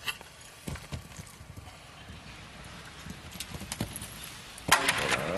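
Hooves of a French horse during a show jumping round at the 2015 World Cup Final in Las Vegas, a series of faint, irregular thuds and clip-clops, ending in a louder clatter.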